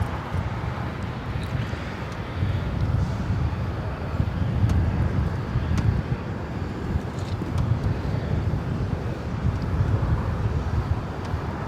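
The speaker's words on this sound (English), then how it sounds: "This is Lufthansa Flight 453 taking off to Munich on the A380." A Lufthansa Airbus A380 departing Los Angeles International Airport rumbles with a low, steady, distant roar that holds throughout under light wind noise.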